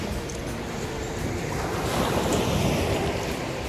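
Sea waves washing onto a shore during a lunch outing by the sea, a continuous loud rush of surf with a gentle swell in the middle and some wind buffeting the microphone.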